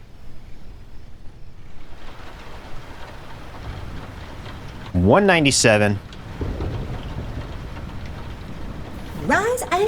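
Steady soft rain hissing across a farm in Lightyear Frontier, a continuous wash under a speaking voice and some sparse chiming game tones.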